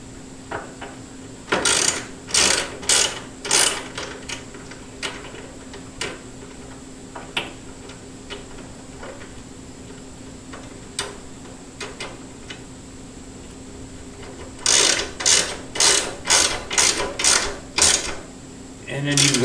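Socket ratchet tightening a bolt on a Harley-Davidson Iron 883 sissybar, giving bursts of rapid sharp clicks, a quick run near the start and a longer rhythmic series near the end, close, with sparse isolated clicks between.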